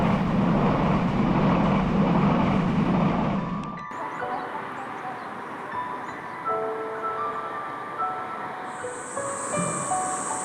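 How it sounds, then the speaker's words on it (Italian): A low rumble of a train passing just below fills the first few seconds, then fades, leaving quiet outdoor ambience in Japan with faint birdsong and a distant hiss. "come sentite in sottofondo sta passando il treno che è qui sotto"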